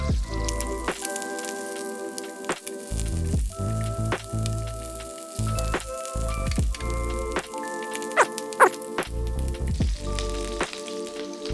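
Squid fry in hot pans, giving a steady sizzle broken by frequent pops, spits and clatters from nearby handling, with no talking.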